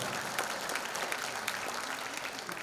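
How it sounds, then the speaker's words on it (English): An audience at a cultural event applauds at a lecture hall, a steady wash of clapping hands heard from within the crowd, moderately loud and continuous throughout. "You can clap for that."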